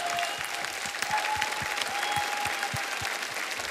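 Audience at a comedy and mimicry show applauds performers Jay Vijay, steady strong clapping from a crowd throughout.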